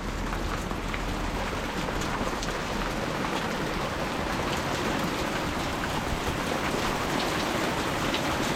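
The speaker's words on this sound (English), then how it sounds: "A little bit of a break while the hail comes down." Hail pelting a Vevor walk-in hoop tunnel greenhouse, a dense, steady patter drumming on the covering throughout, close and loud with no pauses.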